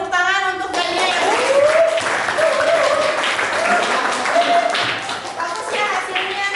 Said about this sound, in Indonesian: Oke, tepuk tangan untuk Gania ya.